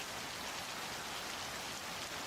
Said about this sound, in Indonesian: Menjelang malam, hujan masih mengguyur deras.